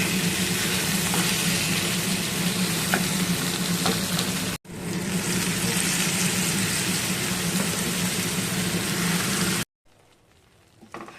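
Mixed vegetables frying together in a little oil, a steady close sizzle with some stirring that runs unbroken, pauses for a moment, resumes and then cuts off near the end, leaving faint quiet room noise.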